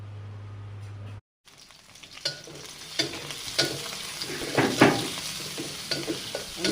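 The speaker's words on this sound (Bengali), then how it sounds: "তার ঝাল, কাঁচা ঝাল, পেঁয়াজ সব ভেজে নিচ্ছি।" Green chillies and onions fry in a pan with a steady sizzle and repeated stirring scrapes, close and clear, after a short hum and a brief silence at the start.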